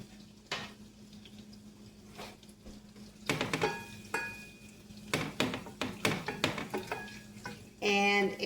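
Butter with garlic browning in a pan, a low steady sizzle broken by repeated scraping and clattering of a utensil against the pan, ending in a brighter rush of sizzle.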